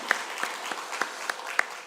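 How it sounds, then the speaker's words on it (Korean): Sparse applause from a church congregation at a Sunday service after a hymn, a thin scatter of separate claps, fairly faint and roomy, with no voices over it. "우리 다시 한번 하나님께 영광의 박수 올려드리겠습니다"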